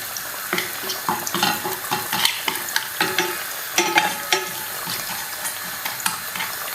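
Crushed pepper being toasted in a pan for a sauce au poivre, with a spoon stirring and scraping in quick, repeated strokes over a light sizzle, close and clear with no one talking.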